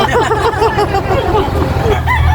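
Chickens clucking and a rooster crowing close by on a poultry farm, with a steady background hum and some crowd noise.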